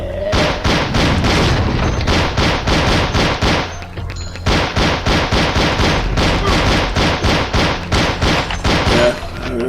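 Rapid repeated pistol gunfire in the zombie shooter Zombie Age 2, loud and dense bursts of shots in quick rhythm with a short pause near the middle, no talk.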